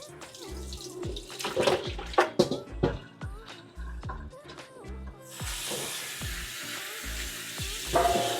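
Rinse water is poured off washed raw chicken, first knocks and clatters of the pieces shifting in the bowl, then a steady close gush of draining water that runs to the end.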